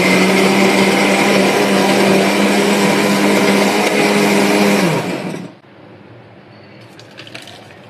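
A blender whirs loudly and steadily for about five seconds, then winds down and stops, leaving a quiet room with faint clatter.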